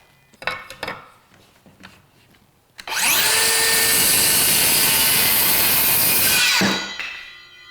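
A cordless framing saw rips through wood in one loud, sustained cut lasting about four seconds, preceded by a few light knocks and handling clicks and ending as the blade spins down.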